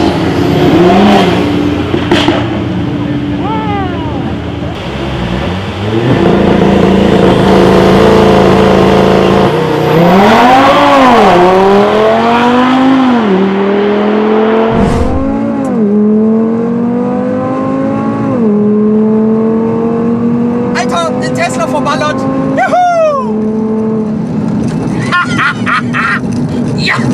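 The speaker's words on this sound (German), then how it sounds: "auch mal einen Launch Control Start versuchen, also um die Reifen ein bisschen auf Temperatur zu bekommen" An Audi TT RS 8S doing a launch control start on a quarter-mile strip, its engine loud and close, holding revs, then surging through rising gear pulls with brief dips at the shifts, ending in sharp crackles.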